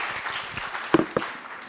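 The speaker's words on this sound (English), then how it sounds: "let's give Dave a round of applause for doing that" Brief applause at an office sales meeting, scattered hand claps with a couple of sharper, louder claps standing out before it trails off.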